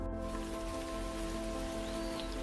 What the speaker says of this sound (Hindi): सुबह हल्की हल्की बारिश हो रही है।